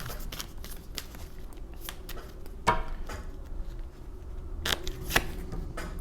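Tarot deck being shuffled and cards pulled during a reading, giving close, soft papery rustles and riffles with a few sharper flicks and slaps over a steady low background hum.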